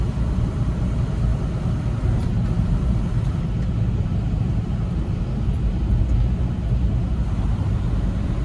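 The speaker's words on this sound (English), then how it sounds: "Big truck." Heavy truck rolling past on a busy highway near Portland, a steady loud broadband rumble of road and engine noise with constant traffic and no talk.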